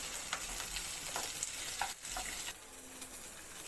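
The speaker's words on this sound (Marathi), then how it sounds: "कांदा छान परतून द्यायचा आहे, लाल होईपर्यंत।" Chopped onions stir-fry in oil in a pan for matar paneer, a continuous close sizzle with spatula scrapes and stirring strokes every half second or so, no talking.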